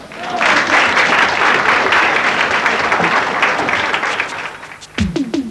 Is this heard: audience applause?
yes